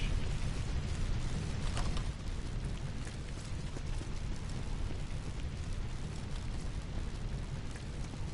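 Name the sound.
slag rocket launcher explosions in the video game Borderlands 2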